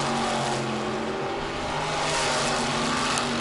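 Race car engine at an oval track, the former Danny Bowes track-champion car, droning steadily at high revs with layered engine harmonics from several cars running together throughout.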